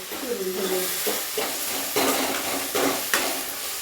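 Onion and potatoes frying in a pan, a steady close sizzle broken by scraping stirs and clinks of a utensil against the metal.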